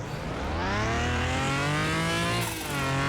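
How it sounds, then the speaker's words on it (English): A Pagani Huayra revs hard with its wheels spinning in Car Mechanic Simulator 2021, a loud, continuous engine note climbing steadily in pitch for about three seconds before a brief dip and renewed rise. "Not even full throttle yet. Just the wheel spin."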